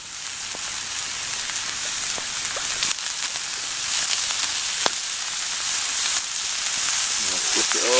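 Vegetables sizzle and fry with garlic sauce in a pan over a camp flame, a steady crackling hiss throughout with a few sharper pops.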